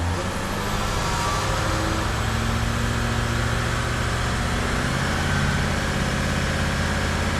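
Range Rover with a rough-running fault and a turbo: the engine is held steady at raised revs around 2000 RPM, giving a continuous droning hum at moderate level with no speech over it.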